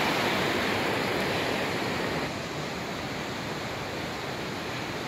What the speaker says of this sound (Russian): Вот это вот вода, количество воды, которая падает с этой скалы